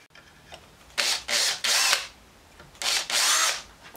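A power drill bores 3.7mm holes in a metal frame part in bursts: two short runs, a longer one, then two more, separated by quiet pauses, loud and close with no talking.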